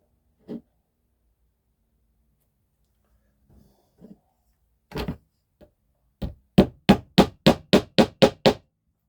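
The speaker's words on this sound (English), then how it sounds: "I can line that up and tap these in." Small pins being tapped into model railway track on a new layout, a few scattered knocks and then a quick run of about eight evenly spaced taps, close and crisp in a quiet room.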